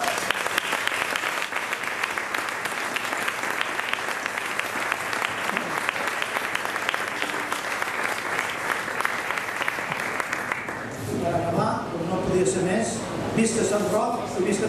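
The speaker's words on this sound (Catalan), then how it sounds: "us demano un fort aplaudiment" A crowd at the Sant Roc festival proclamation in Tarragona applauds the honourees, a thick, sustained roar of clapping for most of its length that fades out before a brief stretch of voices near the end.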